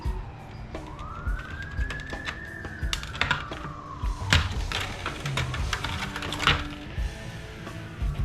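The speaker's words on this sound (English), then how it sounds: "I hear sirens out there." A wailing emergency vehicle siren rises and falls in long sweeps, heard from some distance over scattered clatter and knocking from nearby bench work.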